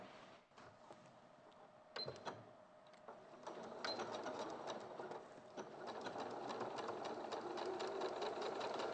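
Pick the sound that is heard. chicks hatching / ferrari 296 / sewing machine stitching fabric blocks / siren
sewing machine stitching fabric blocks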